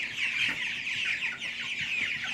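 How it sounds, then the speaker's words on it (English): A group of young meat chickens in an indoor pen clucks and chirps steadily, close by at moderate volume, with no talk over them. "Let's take a quick look at the meat chickens while we got them in here."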